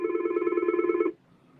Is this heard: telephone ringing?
yes